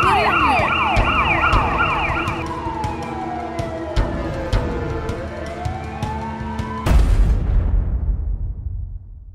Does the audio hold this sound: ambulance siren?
yes